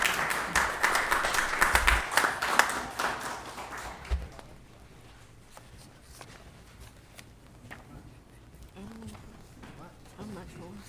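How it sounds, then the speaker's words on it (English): Applause for the City of Rialto at a city council meeting: a burst of clapping in the chamber that fades after a few seconds, followed by quieter room noise and scattered voices. "Let's give them a round of applause."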